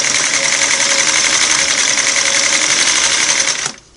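A Singer Model 347 sewing machine runs loud and close in one continuous steady stitching burst with a reverse back tack, then stops abruptly near the end.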